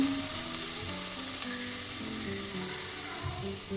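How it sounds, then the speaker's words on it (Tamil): Onions and fennel seeds frying in oil inside a pressure cooker, giving a steady, dense sizzle with faint stirring, close and continuous, no talk. "ஸ்டவ்வில் குக்கரை வச்சு ஆயில் விட்டு சோம்பு போட்டுக்கோங்க அடுக்கி வச்ச வெங்காயத்தை ஆட் பண்ணிக்கோங்க"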